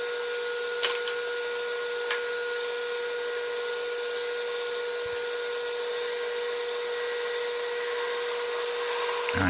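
Metal lathe facing and turning a mini excavator pin from 2 inch stock down to 40 mm, a steady high-pitched whine with a constant tone, continuous and close throughout, with a couple of faint clicks.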